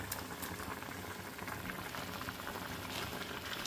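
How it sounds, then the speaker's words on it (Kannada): Water bubbles at a steady rolling boil in a kitchen pot while Maggi noodles go in, a soft, even, continuous churn heard close but faint. "ಗೈಸ್ ಈಗ ಮ್ಯಾಗಿ ಹಾಕ್ತಾ ಇದ್ದೀನಿ, ಕುದೀತಾ ಐತೆ, ಮ್ಯಾಗಿ ಹಾಕ್ಬಿಡ್ತೀನಿ."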